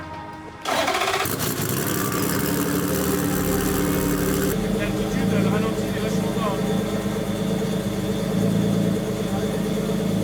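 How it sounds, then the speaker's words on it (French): A Renault race car at Pikes Peak, just off two months in a shipping container, cranks and fires up close by, then settles into a loud, steady idle that rumbles on without a break. "On va démarrer la voiture et voir si après tout ce chemin, après 2 mois dans le container, tout fonctionne bien"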